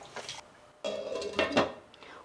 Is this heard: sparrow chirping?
no